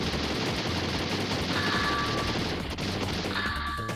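Dense, continuous gunfire in a PlayStation shooting game, a loud, steady roar of rapid shots with faint tonal game effects rising over it toward the end.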